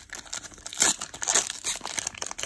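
A Pokémon card booster pack is torn and crinkled open by hand in a short burst of crackling foil and ripping, close and fairly loud, with no talk.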